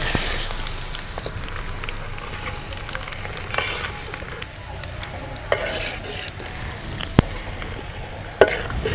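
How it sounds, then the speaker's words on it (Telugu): Tempering seeds crackle and sputter in hot oil for a bitter gourd pickle, a steady close sizzle broken by a spoon clacking and scraping in the pan, with a few louder knocks near the end and no voices. "ఇప్పుడు తాలింపు గింజలు వేస్తున్నా."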